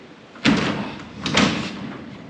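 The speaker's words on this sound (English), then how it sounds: "Close. Get the other door." Barn door on a cow farm swung shut on a windy day, two solid thuds with rattling about a second apart, each trailing off briefly.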